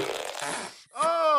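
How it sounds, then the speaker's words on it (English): A short fart sound effect from the Minecraft video game comes after a burst of noisy breath, loud and close. "Ooh, we got a little Minecraft farting."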